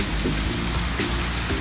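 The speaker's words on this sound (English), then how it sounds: "Look at this rain." Heavy rain falls during a storm. A steady, close hiss of drops hitting surfaces carries through the whole short stretch, with a low rumbling undertone and no voices.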